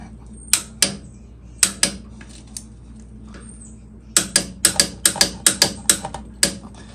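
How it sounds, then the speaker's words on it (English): Ratcheting clicks from a torque wrench tightening the oil drain bolt on a Honda CB550 motorcycle, in two short bursts of two clicks, then a faster run of about eight sharp, close clicks, with no talk. "tighten it up pretty good, and then torque it to 26 foot-pounds"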